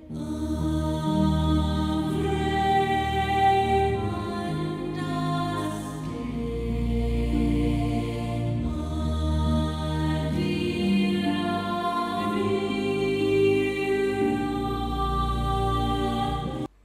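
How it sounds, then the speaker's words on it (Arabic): A song plays with singing over a full instrumental backing, steady and continuous throughout. "هاي صوت التراك قبل ما نشيل منه صوت الفوكلز بروحه"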